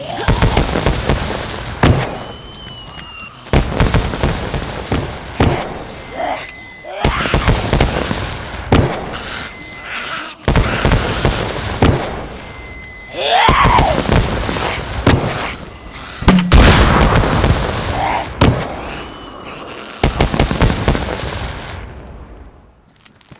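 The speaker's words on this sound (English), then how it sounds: "Thus concludes the MadBaz firework display" Fireworks display in the video game DayZ, set on the Livonia map: a long series of sharp bursts and crackling pops, some loud and close, others trailing off, with brief quiet gaps between volleys.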